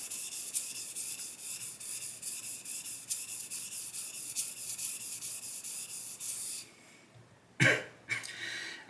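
A straight razor, a Focus frameback, is honed on a Shapton Pro 1.5k stone, giving close, rhythmic scraping strokes that repeat steadily, then pause before a few final passes.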